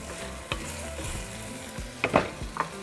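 Beef, cooked for a bistec ranchero, fries in a tablespoon of oil with a steady close sizzle. Several sharp spatula scrapes and knocks come as the meat is stirred, with no talking.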